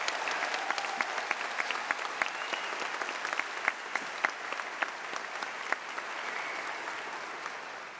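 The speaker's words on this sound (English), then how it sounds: "Let's give this class another big round of applause." A seated audience claps steadily at a medical school white coat ceremony, a dense, even wash of hand claps with a few sharper individual claps standing out, sustained throughout at moderate distance.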